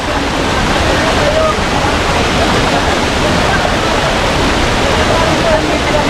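Taytay Falls in Laguna pours with a loud, steady, close-up roar of rushing water that stays continuous and unbroken throughout.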